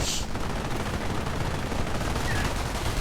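Riflemen fire in a real-time strategy battle game, with steady crackling small-arms fire continuing for a few seconds. The clatter stays dense and moderately faint, with no talking.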